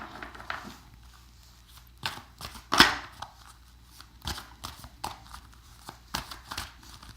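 Cards are shuffled in quick bursts of riffling and soft slaps, close and intermittent, with quiet pauses between each handful.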